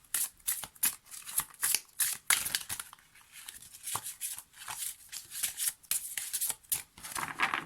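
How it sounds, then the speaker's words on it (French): Tarot cards being shuffled and handled before one is drawn, giving a run of quick papery riffles and soft slaps. The rhythm is uneven and the cards are close and fairly clear, with no talking. "Je vais piocher la carte en fermant les yeux."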